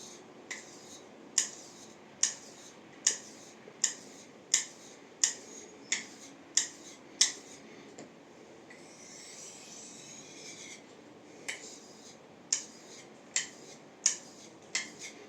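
A Yakut-style knife is sharpened on a washita stone with regular, rasping strokes at close range, a short pause midway, then the strokes resume.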